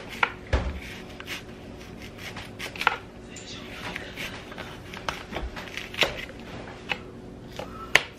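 An onion is chopped with a knife on a board, giving irregular close knocks and thuds with soft rubbing between cuts, steady for about eight seconds.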